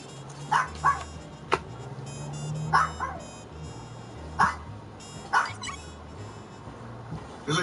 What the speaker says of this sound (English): There's like two of them over there. One of them is barking,